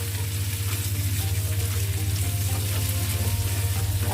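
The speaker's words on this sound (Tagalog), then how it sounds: "Lagyan na natin ang talong. Yan, ganyan. Yun, haluin lang ng konti." Eggplant and sliced pork stir-fry in a pan with a loud, constant sizzle and a steady low hum beneath, the frying close and uninterrupted with no talking.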